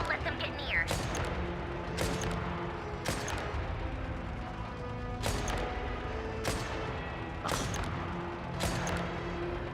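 Distant gunfire in Genshin Impact cracks out as single sharp shots about a second or two apart, under ongoing talk and game sounds.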